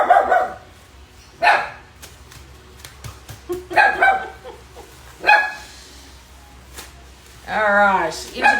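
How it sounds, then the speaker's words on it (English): A dog barks at birds in a home kitchen with repeated short barks and yips in bursts, separated by quiet gaps, with a whimpering whine near the end. "stop barking at the birdies"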